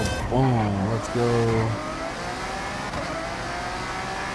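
A Lamborghini in a racing video game revs and accelerates, its engine tone climbing in rising sweeps, then settling into a steady drone with a voice over it.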